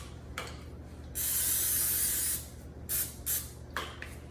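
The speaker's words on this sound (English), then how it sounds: "spray it one more time" A single sustained hiss of cooking oil spray from an aerosol can lasts about a second, followed by a few short quieter spritzes, close and clear with no talking.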